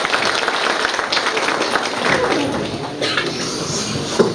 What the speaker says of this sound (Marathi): कृपया सर्वांनी टाळ्या वाजवून सरांचं स्वागत करायचं.